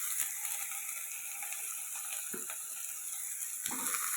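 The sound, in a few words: potatoes and onions frying in a pan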